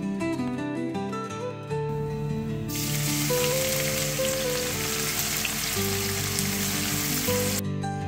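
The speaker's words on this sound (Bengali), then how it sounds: "আমি এখানে প্রথমেই একটি পেঁয়াজ জিরি জিরি করে কাটা সেই পেঁয়াজটা দিয়ে একটু ভেজে নিচ্ছি" Finely chopped onion frying in oil with cloves and cardamom for Bengali katla fish kalia. A steady, dense sizzle swells up after a couple of seconds and holds, with music playing underneath.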